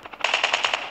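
A rapid burst of automatic gunfire in the video game Call of Duty Mobile, about seven quick shots in under a second, clear and fairly loud with no talk over it.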